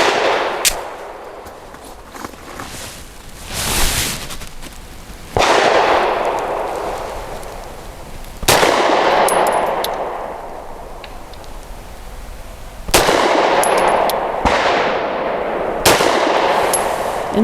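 Grand Power P1 Ultra pistol firing Norma 108-grain monolithic hollow points, several loud sharp shots spaced seconds apart outdoors, each followed by a ringing decay.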